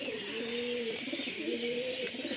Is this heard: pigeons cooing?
yes